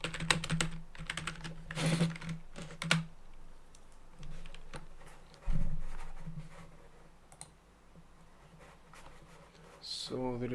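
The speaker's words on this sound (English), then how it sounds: "Just type it." Someone coding types on a computer keyboard in irregular bursts of quick clicking keystrokes, with quieter pauses between and a couple of sharper knocks, heard close.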